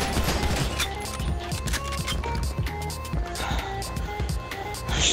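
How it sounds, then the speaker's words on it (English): Grand Theft Auto gunfire crackles constantly in a dense, chaotic mix of rapid shots and impacts that stays loud throughout, with game sounds and voices mixed in. "Stop shooting me now."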